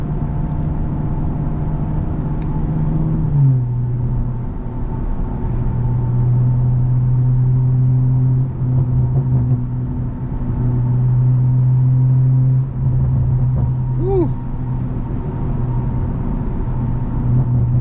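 A tuned BMW M340 with over 500 hp cruises a highway at night, its engine and road drone heard from inside as a loud, steady, low rumble, with one brief pitch drop partway through.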